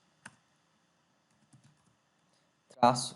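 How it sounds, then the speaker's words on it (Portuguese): A few sparse, quiet key clicks on a computer keyboard while a command is typed, separated by silence, followed by a voice starting to speak. "basta digitar aí npx create react"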